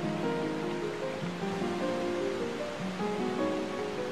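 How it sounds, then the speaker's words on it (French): Steady roaring rush of a waterfall in the snowy mountain area of the game Twilight Princess, continuous and close, with soft tonal background music layered over the constant white-noise wash. "Elle est impressionnante cette chute d'eau, non?"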